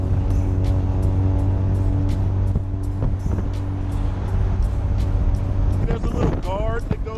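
A rotary-engine car idles with a steady, loud drone carrying strong harmonic tones, then revs sharply near the end with a rising, warbling growl. A voice talks over the engine.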